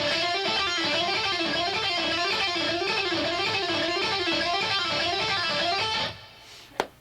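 Electric guitar playing a fast, continuous hammer-on and pull-off picking sequence, a smooth rippling run of notes at steady volume that stops abruptly, followed by a couple of sharp clicks.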